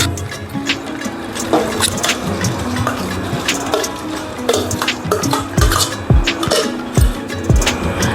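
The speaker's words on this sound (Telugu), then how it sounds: "ఇప్పుడు రైస్ వేసుకుందాము" Rice tipped into a pot of hot oil while cooking soya chunks pulav, with grains rattling and clinking against the pot in several short bursts. A steady background of utensil stirring and kitchen clatter sits underneath.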